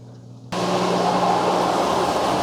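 A Saniflo Sanicom 1 drain pump serving a basement kitchen and laundry room switches on abruptly from a quiet low hum into a loud, steady whooshing roar that continues unbroken.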